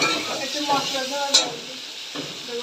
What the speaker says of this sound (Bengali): এবার আরও দু তিন মিনিট একটু এইভাবে কষাতে থাকবো